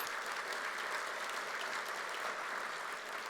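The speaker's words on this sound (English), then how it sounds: "A big round of applause for our House of Representatives." Audience applause at a Texas Policy Summit keynote lunch as state representatives are recognized: a steady, fairly soft wash of clapping that fills the whole stretch without letting up.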